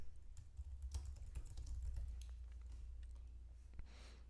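Computer keyboard typing, quiet and close, with a light scatter of key clicks over a steady low hum and no voices.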